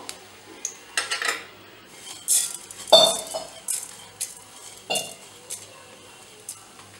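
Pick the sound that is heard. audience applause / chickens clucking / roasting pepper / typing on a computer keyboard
roasting pepper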